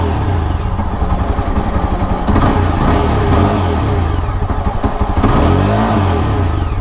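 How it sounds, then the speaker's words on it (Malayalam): A Yezdi Adventure motorcycle idles loudly in neutral at close range, its exhaust rumbling steadily between brief throttle blips that swell and fall, with engine clatter throughout and no voices. "അപ്പോൾ ഇതാണ് വണ്ടിയുടെ എക്സോസ്റ്റ് എന്ന് പറഞ്ഞു കഴിഞ്ഞാൽ"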